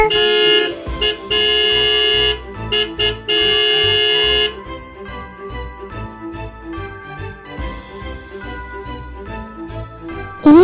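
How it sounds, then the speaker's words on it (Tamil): A garbage truck arrives tooting its horn in several loud, sustained bursts over the first few seconds, followed by a steadier run of tonal, ringing notes. "சொன்ன மாதிரி குப்பை வண்டி சாங் போடாம வந்துட்டாங்க."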